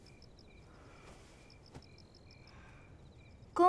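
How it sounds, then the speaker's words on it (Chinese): Crickets chirp at night in a quiet outdoor courtyard scene of a period drama, a steady, faint, regular trilling that runs throughout and ends under a sudden louder sound. "在这里听蛐蛐叫"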